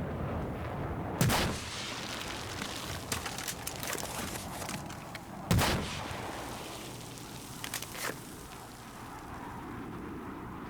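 In Battlefield 4, an SRAW missile strikes with two heavy explosive booms several seconds apart, amid scattered distant gunfire and rumbling battle noise.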